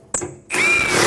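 Power tool tightening a fuel tank strap bolt under a 2012-2021 Nissan NV2500 5.6L V8: a short sharp click, a brief pause, then a loud close whirring spin-up of the tool.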